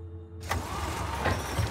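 A car engine turns over in Surviving the Aftermath: silence breaks into an abrupt start, then a close, steady running drone with a couple of soft bumps and no voices.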